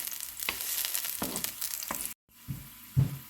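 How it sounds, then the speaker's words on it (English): Garlic frying in oil in a pan gives a close, crackling sizzle with a few sharp spatters, then cuts to a brief silence before quieter sizzling and a bump return. "mix the oil around, make sure it's spread across the entire pan, and try to cook the garlic as much as you can."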